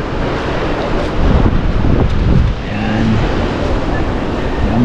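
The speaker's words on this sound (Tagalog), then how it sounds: "Grabe ang alon, no?" Ocean waves roll and crash on a shore, a dense, loud wash of surf mixed with heavy wind buffeting the microphone, with faint voices in the background.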